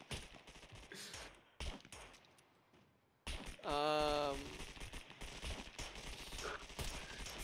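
Gunfire in the survival video game Scum, with sharp shots and bursts over a busy game scene, background chatter and a loud sustained tonal sound partway through.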